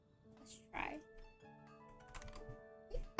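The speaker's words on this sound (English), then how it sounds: "why did I keep typing in the wrong window?" Computer keyboard typing during a livestreamed game session, a few short bursts of clicky keystrokes at close range, with a person talking in between.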